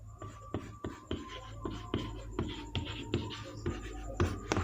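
Pen or chalk strokes writing out a definition of gross national product in a Hindi-medium economics lesson, a steady run of short scratchy marks with brief pauses, close and clear over a low background hum.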